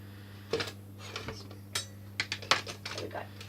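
Metal spoons clink and rattle as they are pulled from a kitchen cutlery drawer, a series of short bright clatters over a steady low hum.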